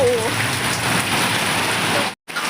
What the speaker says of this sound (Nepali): त्यही भएर पुरै पानी परिरहेछ, गडङगडुङ गरिरहेछ